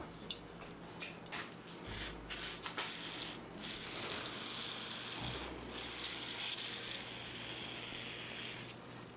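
Brake cleaner hisses from an aerosol can in several bursts onto rusty rear wheel bearing parts, with clicks and mechanical handling noises between the sprays.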